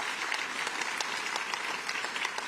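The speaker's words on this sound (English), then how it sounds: "Let's give him a round of applause, Mario Salento." Audience applause for a labor leader at a New York governor's public announcement, steady dense clapping from a crowd throughout, moderately distant and even.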